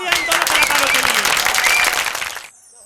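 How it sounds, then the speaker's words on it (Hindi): Loud crowd applause for two singers at a Haryanvi ragni folk performance, dense clapping with a faint tone underneath, stopping abruptly near the end and leaving near silence. "जोरदार तालियां इन दोनों कलाकारों के लिए।"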